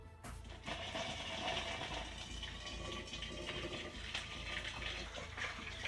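Hot water poured from a kettle into a vessel for making peanut butter and jelly mead, a loud, steady splashing gush that runs continuously for several seconds after a sharp start.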